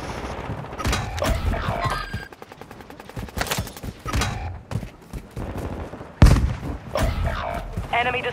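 MP5 submachine gun fire in Warzone, heard as several short bursts of shots among booms and impacts, mixed with game voice lines and talk.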